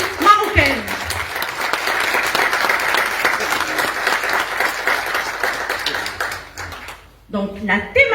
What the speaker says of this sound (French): je vous demande un tonnerre d'applaudissements pour cette belle ville marocaine